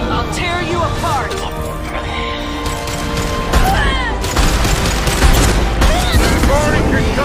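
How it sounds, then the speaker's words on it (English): A concussive shot is fired amid a Mass Effect 2 firefight, with booming impacts and gunfire layered over game music and chatter. "Firing concussive shot."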